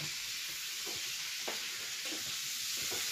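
Potato and pork stir-frying in a home kitchen wok: steady close sizzling hiss punctuated by several scraping stirs at irregular intervals, no voices.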